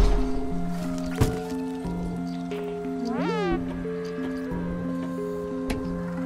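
A cat meows from the video game Stray, a single rising meow cutting through the game's looping synth music, with a clear, close and moderately loud tone.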